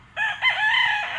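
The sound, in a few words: white Kelso gamefowl rooster crowing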